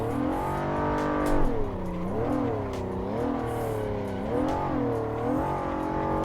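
A Nissan 400Z drifts in the racing game Assetto Corsa, its engine revving hard and continuously with rising and falling pitch swings as the car slides, tires squealing faintly beneath.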